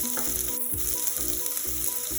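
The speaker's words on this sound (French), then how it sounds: "maintenant que mon huile est assez chaude, je vais faire suer mes échalotes" Shallots sweat in hot olive oil in a pan for homemade pizza sauce, a close, steady bright sizzle with light stirring and no talk.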